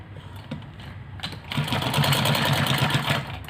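A sewing machine stitching a ladies' salwar, a few quiet clicks giving way to a steady, fast, close mechanical whirr of running stitches.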